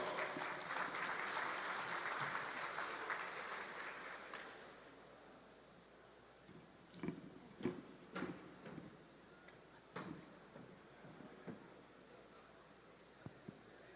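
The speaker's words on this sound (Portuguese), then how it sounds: "Uma salva de palmas." Applause from a congress audience welcoming a speaker for a talk on urban mobility, full clapping for about four seconds that dies away into scattered knocks, taps and a few voices.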